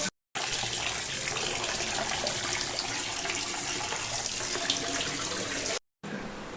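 Running tap water gushes steadily while something is washed under it, a close, even splashing stream bounded by brief silences at the start and end.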